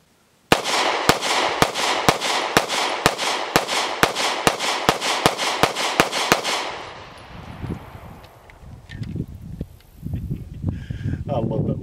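A Bul Armory SAS II Ultralight 3.25-inch double-stack 1911 in 9mm fires about fifteen sharp, evenly spaced shots in rapid succession at an outdoor range, followed by quieter rustling and handling noise.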